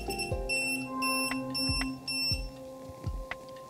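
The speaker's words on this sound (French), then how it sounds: "Avec ce détecteur de champ électrique, nous pouvons voir si la lampe est branchée dans le bon sens." An electric field detector held near a plugged-in desk lamp gives off repeated electronic beeps and steady tones at close range, with no voices.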